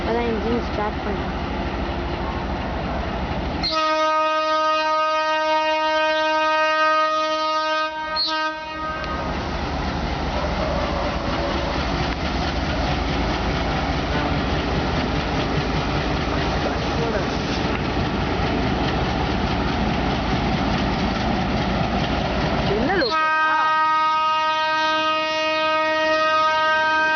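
An Erode-based WDM2 diesel locomotive hauls the Tirupati–Nagercoil Express out of Srirangam, its loud multi-tone horn sounding twice over a steady, heavy diesel engine rumble and passing train noise.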